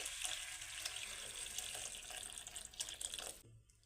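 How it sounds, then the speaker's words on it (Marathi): Hot water pours steadily into a pan of potato curry in a continuous hiss and splash, close by, then cuts off abruptly near the end. "याच्यामध्ये आता गरम पाणी टाकून घेणार आहे"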